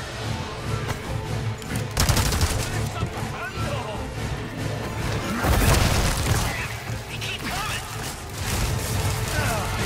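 Rapid bursts of gunfire in Resident Evil 4 Remake's Krauser boss fight crackle almost continuously, loud and close, with heavier blasts at moments and voices talking over the shooting.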